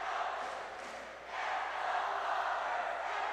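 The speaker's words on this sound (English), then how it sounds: "And listen to the crowd here." A basketball crowd at a preseason cup finals game roars in a dense, sustained wash of cheering and shouting from a packed arena, dipping briefly before swelling again, with no clear talk over it.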